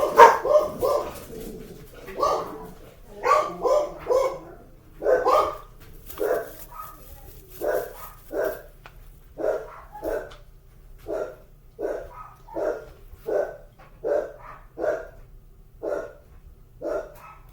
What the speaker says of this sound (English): You're just going to have to hear the dogs.